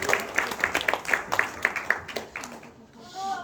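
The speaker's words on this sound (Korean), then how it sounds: "박수로 2부를 시작하도록 하겠습니다." Scattered hand claps in a church hall, a run of sharp, fairly evenly spaced claps from a small group that fades out after a couple of seconds, with voices murmuring around it.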